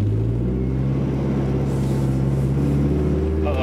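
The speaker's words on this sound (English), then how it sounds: "The turbo is actually really loud spooling in this car." A steady engine drone inside a 500hp SRT-4 with a low rumble and a continuous loud turbo spooling whine above it, no talking.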